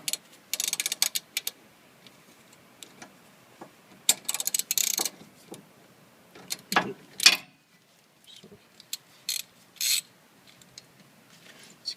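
A wrench loosens the brake caliper glide pin bolt on a 2008 Acura MDX rear brake, making sparse ratcheting clicks and metallic ticks in short bursts, close up with quiet gaps between them.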